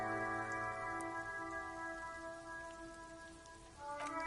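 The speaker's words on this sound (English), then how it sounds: "It's raining again." Steady rain falls in the video game Disco Elysium, a constant close patter with faint tonal ambience humming beneath it and no voices.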